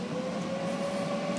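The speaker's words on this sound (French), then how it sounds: "mets en route ton café, ça va faire un peu de bruit" A coffee machine powered by an EcoFlow Delta battery runs with a steady mechanical hum and a constant tonal whine, close and moderately quiet.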